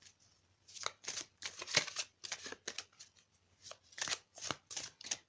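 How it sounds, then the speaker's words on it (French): Oracle cards from an Ascended Masters deck being shuffled and drawn by hand, heard as quiet, close bursts of riffling and flicking in an irregular rhythm, with no voices. "on va prendre une carte des maîtres ascensionnés"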